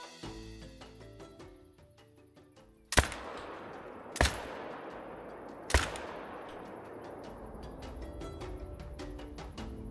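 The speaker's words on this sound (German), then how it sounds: "Die ersten Schüsse mit der neuen 308." Three sharp, loud shots from a ZARZA .308 rifle in theHunter Call of the Wild, each a hard crack followed by a long rolling echo, spaced over a few seconds against a quiet outdoor backdrop with light musical tones.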